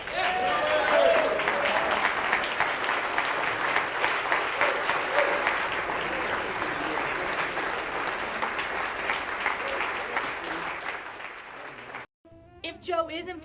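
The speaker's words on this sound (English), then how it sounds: "Please stand and give a great round of applause to Joe Carello." Sustained applause from a standing audience honoring an award-winning jazz educator, steady and dense for about twelve seconds before a voice begins over a quieter background.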